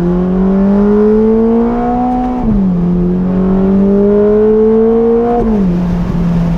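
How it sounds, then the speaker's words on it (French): A loud Ferrari Roma Spider twin-turbo V8 engine revs steadily, its pitch climbing through the gears in two long pulls, each dropping briefly at a shift. "Un V8 biturbo, mais regardez, il monte vraiment dans les tours."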